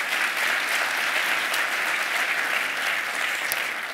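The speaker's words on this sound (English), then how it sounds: "So please, yeah, clap for yourselves for being here." A large summit audience at a Latino entrepreneurship event claps for themselves, a loud, close, dense wash of clapping with no talk over it.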